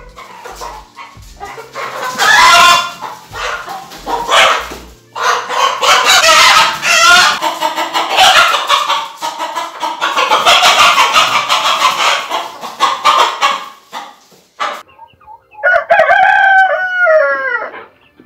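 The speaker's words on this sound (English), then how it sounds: "the three roosters" Three roosters crow in overlapping, drawn-out calls in a Kenyan village morning, loud and close, with a dog barking briefly among them and a clucking bird near the end.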